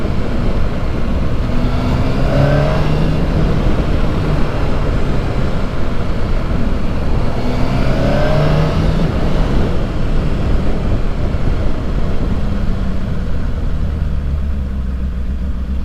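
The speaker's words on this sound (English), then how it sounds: "Yeah, I like the way this bike sounds." A 2007 Honda CBR600RR sport motorcycle engine drones steadily at close range while riding, rising and falling in pitch over constant wind and road rumble.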